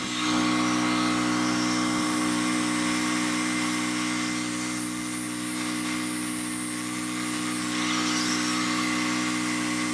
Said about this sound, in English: we're going to use this wire wheel, or the flap wheel here